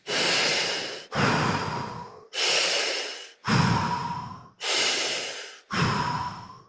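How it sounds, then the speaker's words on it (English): Six deep mouth breaths follow one another in an unbroken rhythm, each a loud, airy whoosh lasting about a second with no pause at the top or bottom, close and alone. "The breath pattern that we're going to be doing is called circular diaphragmatic breathing."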